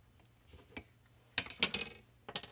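A tool punches a hole through the paper flap of a Christmas scrapbook album, giving a few sharp close clicks and crunches after a quiet start.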